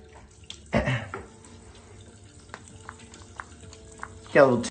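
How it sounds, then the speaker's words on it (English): Hands splash tap water onto a face at a bathroom sink: one wet slosh, a quiet stretch with small drips and trickles, then a second splash, all close and clear. "Step one, get the face nice and wet with a little water."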